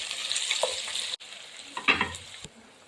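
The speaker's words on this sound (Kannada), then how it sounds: "ಇವಾಗ ಪ್ರಾನ್ಸ್ ಗ್ರೇವಿ ಮಾಡಲಿಕ್ಕೆ 3 ಮೀಡಿಯಮ್ ಸೈಜಿದು ಆನಿಯನ್ ತಗೊಂಡಿದ್ದೇನೆ. ಅದನ್ನು ಕೂಡ ಚೆನ್ನಾಗಿ ಫ್ರೈ ಮಾಡ್ಕೊಳ್ಬೇಕು." Three medium onions fry in ghee for a Mangalorean prawn curry, giving a steady close sizzle with bright crackle. A brief break and a stirring clatter interrupt it partway through.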